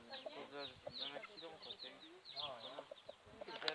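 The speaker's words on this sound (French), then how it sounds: "Là, messieurs, les coqs de la basse-cour." Roosters and hens in a farmyard on a farm in the Loire region, with repeated clucks and crowing calls close by, mixed with background voices.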